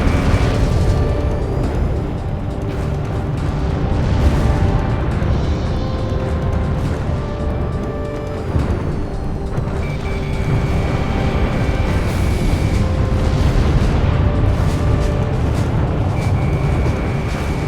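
Heavy booming missile explosions and rolling shockwaves in the Ace Combat 6 flight combat game over the Moloch Desert, loud and continuous, layered with roaring jet engines and tonal in-game effects throughout.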